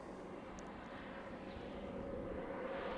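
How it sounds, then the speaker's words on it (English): A fixed-wing airplane passes overhead outdoors, a steady low engine drone and rushing roar that holds evenly and grows slightly louder through the clip, with no talking. "Sorry, plane right above my head."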